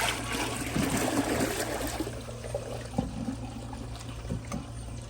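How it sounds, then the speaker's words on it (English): Water from a bucket pours into the bowl of a Glacier Bay PowerFlush toilet, a broad rushing gurgle in the first two seconds that settles into a quieter trickle and drain, close by and alone. "I'm going to use all the water in this bucket, so here's a bucket flush."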